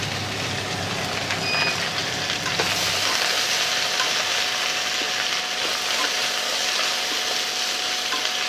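Mushrooms frying in a pan with turmeric and chilli powder, a steady close sizzle that grows thicker and brighter partway through, with faint background tones.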